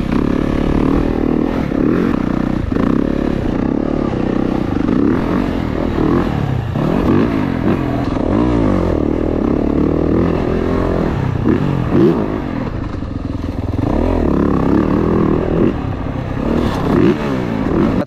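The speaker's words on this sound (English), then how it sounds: "I think that's a good enough test of the stock exhaust." A 2023 Yamaha YZ450F dirt bike with its stock exhaust runs loud and close for a long stretch, repeatedly revving up and dropping back with a rough, rattling exhaust note.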